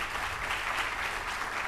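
An audience at a Bhagavat katha religious discourse applauds the speaker with dense, steady clapping that fills the hall at an even level throughout.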